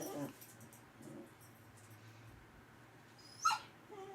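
Oreo the dog gives soft, faint whimpers and a brief, higher whine near the end, heard over a quiet, low background murmur.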